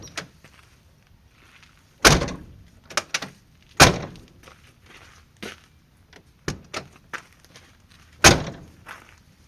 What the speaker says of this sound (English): As you can see, the door opens and closes now like it's supposed to